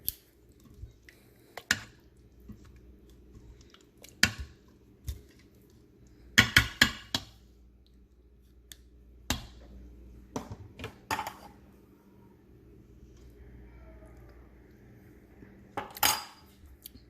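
A utensil clinks and scrapes against a dish in scattered, sharp taps separated by quiet pauses while seasoning of salt, pepper and garlic powder is mixed into meat.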